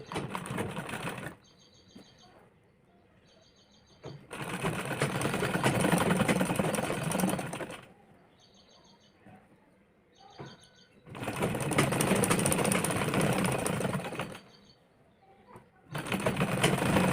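A sewing machine stitches blouse piping along the edges in several long, loud runs separated by quiet pauses with faint clicks as the fabric is adjusted.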